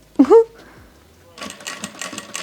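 Vevor industrial sewing machine stitching through vinyl for a clutch, a burst of rapid, steady needle clatter starting after a brief pause, fairly close, following a short voice-like sound at the start.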